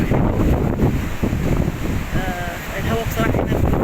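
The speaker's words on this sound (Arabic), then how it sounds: "الهوا بصراحة هنا" Strong seashore wind buffets the microphone in heavy gusty rumbles, with surf in the background and a person speaking over the roar.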